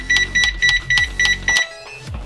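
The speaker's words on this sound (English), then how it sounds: "And set the timer." Digital timer being set for a headlight lens-separation job, giving six evenly spaced sharp electronic beeps, each over a brief low thump, followed by a quieter pause and a faint click.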